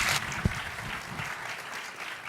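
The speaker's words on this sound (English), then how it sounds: "Another round of applause." Audience at a college counseling panel applauding, a steady wash of clapping that stays fairly faint and even throughout, heard from a distance with no speech over it.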